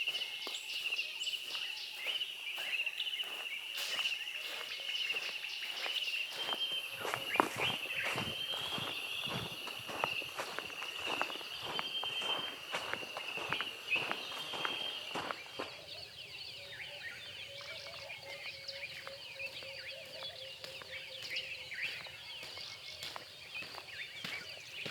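Footsteps crunch down a riverbed at sunrise in the African wilderness, a steady run of close, uneven steps over gravel and sand with birds and insects chirping around, softening and thinning out in the later part.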